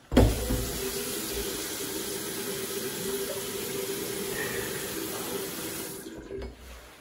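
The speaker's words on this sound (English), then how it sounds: "let me wash my face" Water runs steadily from a tap into a sink as someone washes their face, a constant faint hiss and splash that continues unbroken until it is turned off near the end.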